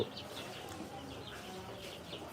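American fighter chickens, including a black one, on a chicken farm, giving soft overlapping clucks and bird calls that carry steadily through the whole stretch with no voices.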